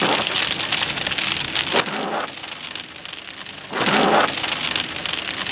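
Heavy rain pours steadily during a severe hail-producing storm, with two deep rumbling thunder surges swelling over the constant loud hiss of rain.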